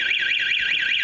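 A loud electronic alarm set off by bumping the glass wails in a rapid, repeating up-and-down siren sweep, steady and piercing with no pauses throughout.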